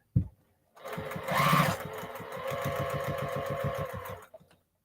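A sewing machine stitches a curved seam on a baby cape, with a short knock at the start, then a steady, fast mechanical chatter that runs close and fairly quiet for about three and a half seconds before stopping.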